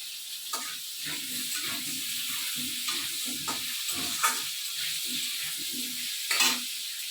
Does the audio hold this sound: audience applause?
no